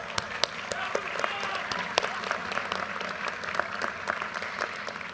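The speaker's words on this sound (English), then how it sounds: "you deserve your own round of applause." Steady audience applause fills a graduation ceremony for an MBA program, a dense, continuous patter of many hands at moderate distance with a few sharper close claps.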